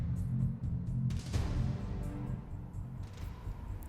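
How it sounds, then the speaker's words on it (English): A blue firework launches in the Witch on the Holy Night game, a booming burst followed by a crackling rumble that fades over several seconds against a constant low background. "A blue firework launched into the air."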